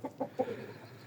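Chickens, including a young chick, cluck in a short run of three close, rhythmic calls followed by softer trailing murmurs, with no speech over them.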